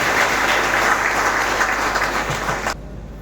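Loud, dense applause from an audience at a soldier's retirement ceremony, steady clapping that fills the room and then cuts off abruptly near the end.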